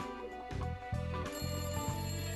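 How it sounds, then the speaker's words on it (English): Phone ringing in the video game Layton Brothers: Mystery Room, a synthesized ringtone of repeated electronic trills pulsing in short bursts over steady game music, loud and clear with no talk. "Oh, that's a phone."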